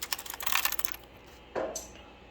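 Rapid keystrokes on a Smith Corona electric typewriter, a dense run of close clicks and clacks followed by a pause and one louder mechanical clunk, like a carriage or key return.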